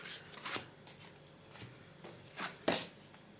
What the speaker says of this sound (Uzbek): Qani, yana 3 ta karta olaylikchi.